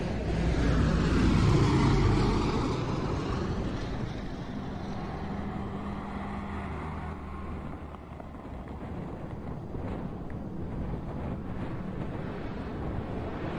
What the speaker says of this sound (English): Here's the Jeep driving to the control tower